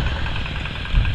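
A plowing machine's engine runs steadily at a field in Santa Isabel, a continuous close rumbling drone with low-end vibration and no pauses.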